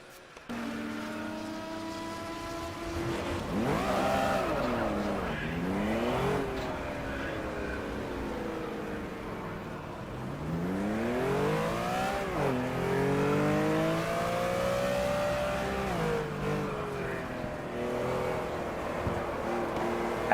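A Porsche 911 RSR racing game car engine revs hard and continuously at Okayama, pitch rising and falling with throttle changes as the car spins, loud and close with no talk.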